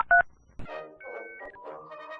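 Dial-up internet modem connecting: a brief burst of keypad dialing tones, then screeching handshake chirps and warbling steady tones, fairly loud and with no talking.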